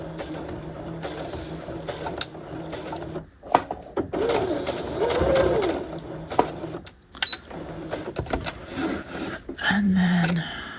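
A sewing machine stitches a half-scale jacket welt pocket in short close bursts of rapid mechanical whirring, stopping and restarting with a back stitch, while a voice talks quietly at moments between runs.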